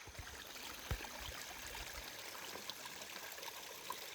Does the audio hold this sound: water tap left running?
yes